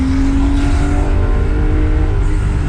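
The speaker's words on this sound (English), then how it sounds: "it's got a good back exhaust note or whatever they call that" A Porsche engine revving, its exhaust note a loud, rich, continuous roar with a steady tone throughout, heard close up and alone.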